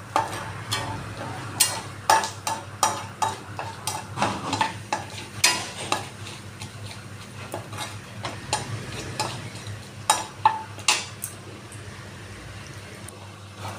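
White cumin seeds frying in oil with dried chilli and bay leaf pop in sharp, irregular crackles over a faint background hiss, with several bursts clustered close together and others spread apart.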